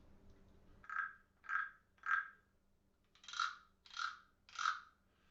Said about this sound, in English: the frog sounds are from, these particular frogs are from Thailand that I picked up in Phuket, Thailand